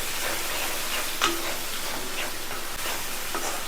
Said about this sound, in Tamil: சேர்த்துட்டு எல்லாத்தையும் ஃபுல்லாக ஃப்ரை பண்ணிக்குவோம்.